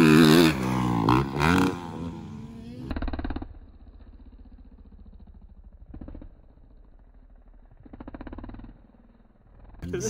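Green dirt bike motorcycle revving and riding, with a loud, rising engine roar at the start, then quieter idling broken by repeated short throttle blips that rise and fall.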